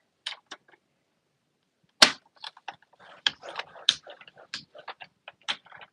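Paper being scored on a scoring board for an arch die project: quiet, sharp scraping ticks in short irregular bursts, one brief pass early, then a quick run of scratches after a pause.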